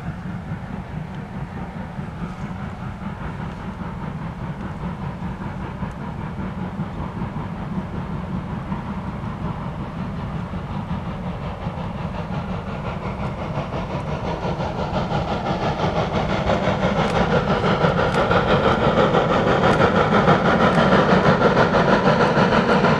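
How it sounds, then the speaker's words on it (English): Former Canadian National 2-6-0 locomotive No. 89 hauls a passenger train past, a steady rumbling roll of engine and wheels that grows louder and nearer over the span, with no voices. "Former Canadian National 260 No. 89 was seen on the regular passenger trains, making several meets with the photo freight."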